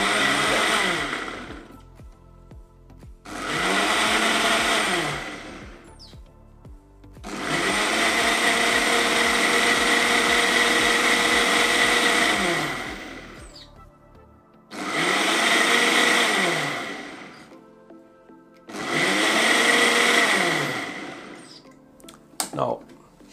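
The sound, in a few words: blender running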